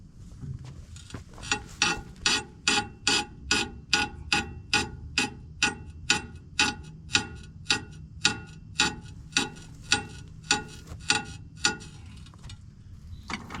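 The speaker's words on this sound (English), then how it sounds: "you don't have a 3/4 ratchet with you." A 3/4-inch ratchet clicks steadily on a broken bolt on a combine, giving a close, crisp run of evenly spaced ratcheting bursts, about two per second, with a faint low hum beneath.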